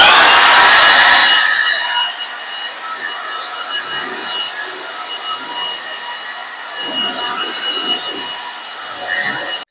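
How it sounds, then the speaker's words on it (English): A Milwaukee 2724 M18 cordless leaf blower drying a car roars loudly for a couple of seconds, then winds down to a quieter whirring hiss with scattered rustles and clatter. "the Milwaukee 2724 cordless leaf blower"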